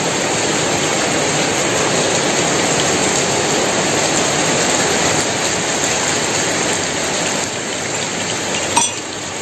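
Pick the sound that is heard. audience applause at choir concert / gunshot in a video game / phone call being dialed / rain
rain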